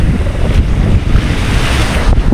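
Sea waves wash steadily onto the shore beside a stone island, with gusting wind buffeting the microphone throughout, loud, close and continuous with no talking.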